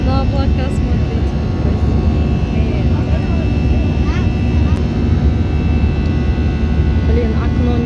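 Loud, steady jet engine roar inside a passenger airliner cabin during the climb after takeoff, a continuous droning rumble throughout with a faint voice in the background.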